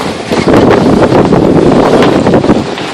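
A brisk 10 to 15 knot wind buffets a sailboat off Catalina Island, a loud constant roar of wind rushing over the microphone, with water and boat noise beneath it and no voices.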